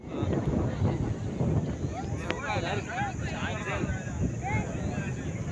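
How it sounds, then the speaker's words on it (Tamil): Strong wind buffets the microphone on a mountain trek up to the Kannagi Devi temple, a constant loud low roar with gusts, while faint voices and calls sound in the background. "காத்து அம்மா காத்து"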